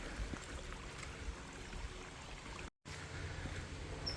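Rainwater runs steadily through a canyon park, a faint, continuous rushing trickle heard from nearby and broken by a moment of silence, with no voices.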